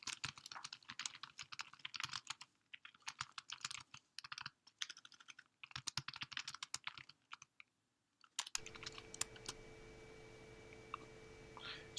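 Bursts of rapid keystrokes tapping out a text message on a keyboard, in uneven runs with short pauses, then a brief break before a steadier background hum with a few faint clicks continues to the end; no one speaks.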